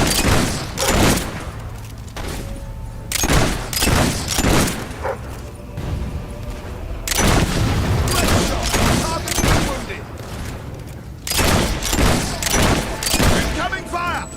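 Incoming artillery fire in the Fable III video game, a rapid series of loud booming blasts and thuds in clustered bursts, close and heavy, with voices speaking between the hits.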